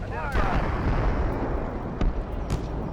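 Tank cannon fire in a modern armored combat video game, with booming low-heavy blasts at about 0.3, 2.0 and 2.5 seconds over continuous rumbling battle noise, with a voice talking throughout.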